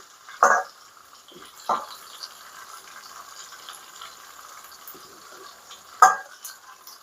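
Chicken joints frying in gravy in a pan, faint low sizzling punctuated by three sharp stirring scrapes, no talking.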